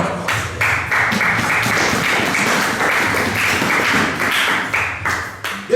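A church congregation applauds after a Bible reading, a dense, sustained clapping with a tapping pulse running through it, kept up steadily for several seconds.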